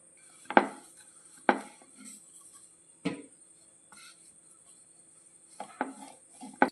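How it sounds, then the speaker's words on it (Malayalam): A rolling pin works chapati dough on a board, giving sharp separated knocks and soft rolling thuds about once a second, fairly faint, with quiet pauses between strokes. "ഇതൊന്ന് പരത്തിയെടുക്കാം"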